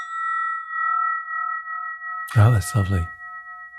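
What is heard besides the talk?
brass spinning bell ringing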